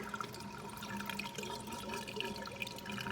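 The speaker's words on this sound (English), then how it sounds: "Water draining really good." Water in a large homemade aquaponics system drains through its drain pipe in a steady rushing, gurgling flow with small splashes and trickles, constant and moderately close, with no voices.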